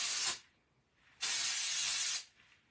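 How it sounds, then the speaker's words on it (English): Hairspray hisses from an aerosol can onto held-up dry hair in two bursts, a short spray followed by a longer one, close and loud with quiet between them. "And then I will hold it up and spray and let it fall."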